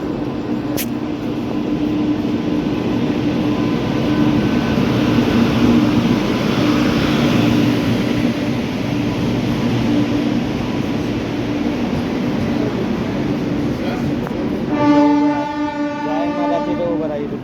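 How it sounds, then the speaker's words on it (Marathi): A long passenger train with AC reserved coaches rolls through a station with a continuous loud rumble and clatter of wagons. A horn sounds briefly near the end, heard close on the platform. "आता ही एक ट्रेन आली तर तुम्हाला इथं व्ह्यू दाखवतो मी."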